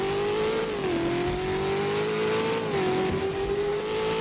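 Tour Striker car in Roblox Driving Empire revving loud and close, a steady droning engine note that rises and dips between gear shifts and holds for several seconds with no one talking.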